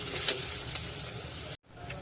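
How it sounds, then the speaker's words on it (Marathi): Chopped onion sizzles steadily in hot oil on a low flame, browning toward golden for Amritsari chole masala; a continuous close frying hiss, briefly cut by a short silence near the end. "आता गॅस लो फ्लेमवर करायचा आहे आणि कांदा आपल्याला गोल्डन ब्राऊन होईल इतका परतायचा आहे"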